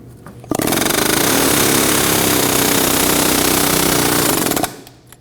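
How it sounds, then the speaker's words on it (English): An air hammer rattles in one loud, sustained burst of about four seconds, chiseling out a front ball joint on a 2003-2006 Subaru Baja, close up with no talk. "Now I'll be using an air hammer and chiseling in just on the edge right here and starting to pry"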